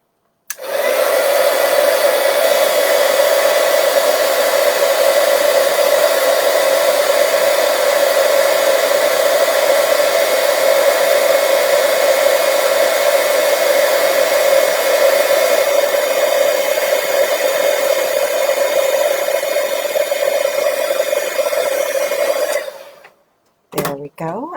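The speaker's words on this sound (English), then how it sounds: "And so I'm going to grab my heat tool." A heat tool blows a steady, loud whirring hum with a whine on top, running continuously while it melts embossing powder, then switches off near the end.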